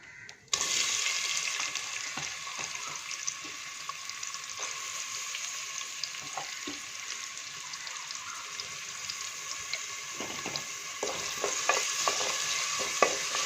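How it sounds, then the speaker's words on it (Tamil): Onions sizzling and frying in hot oil in a pan for hotel-style chicken kurma, a steady close broadband sizzle with occasional stirring scrapes, no talk. "வெங்காயம் போட்டு வதக்கலாம்."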